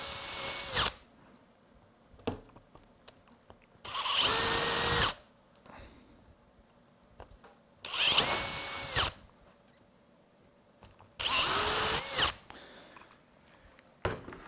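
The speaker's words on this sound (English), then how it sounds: "now we can open it up to our 1/4" hole" A power drill bores 1/4 inch holes through polycarbonate sheet in four loud, close bursts of about a second each, separated by quiet pauses with faint handling noises.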